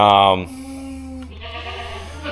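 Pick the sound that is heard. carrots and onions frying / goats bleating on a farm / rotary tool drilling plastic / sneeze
goats bleating on a farm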